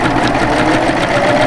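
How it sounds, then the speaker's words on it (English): Serger stitching a wide two-thread cover stitch on sample fabric, a steady, close, continuous mechanical whir with a fast rhythmic chatter throughout, no talking. "let me stitch down on my sample fabric here and show you what that looks like"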